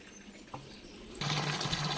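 Water from a direct borewell supply starts pouring into a container after a faint knock, becoming a steady nearby rushing splash for the rest of the moment.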